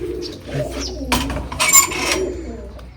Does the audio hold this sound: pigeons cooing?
yes